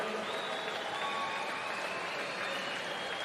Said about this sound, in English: One more big round of applause for these swimmers that have come out of retirement for this.